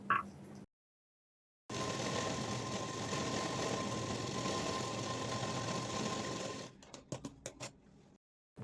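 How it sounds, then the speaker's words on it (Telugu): Sewing machine stitching the corner of fabric for semi-patiala pants, a steady close mechanical whir running for several seconds, then a few short bursts as the stitching stops and restarts. "ఈ కార్నర్లో కూడా మరో స్టిచ్ అయితే వేసుకుందాం"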